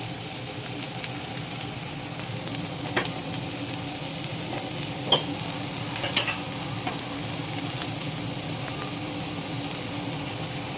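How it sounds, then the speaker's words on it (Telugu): Onions fry in a pan with turmeric, a steady dense sizzle running throughout with occasional stirring scrapes and small pops, close and continuous with no talking. "ఇప్పుడైతే నేను ఉల్లిపాయ వేస్తే చేసుకుంటున్నాను."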